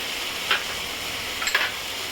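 A low, steady hiss comes from yellow, red and green bell peppers and pasta in a hot pan over a high flame, broken by two short scraping stirs close by, with no voices.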